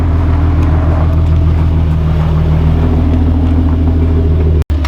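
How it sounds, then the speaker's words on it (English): A VR6 car (2.8L or 3.2L) fitted with a MagnaFlow catback exhaust idles with a steady, deep, loud rumble, cutting off abruptly just before the end. "So we put the exhaust on yesterday, the catback MagnaFlow"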